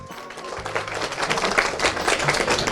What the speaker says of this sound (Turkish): Öncelikle Mustaç yönetimini şöyle bir alkışlayabilir miyiz efendim?